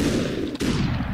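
A single sharp gunshot cracks in the video game Superhot, standing out against a steady rumbling background.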